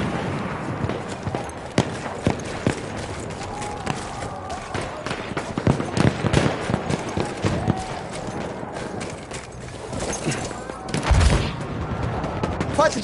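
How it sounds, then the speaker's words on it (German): Machine gun fire from a PS4 shooter game rattles in dense bursts amid grenades and other gunfire, loud and continuous throughout, with dense clustered shots building near the end. "Jetzt Maschinengewehr!"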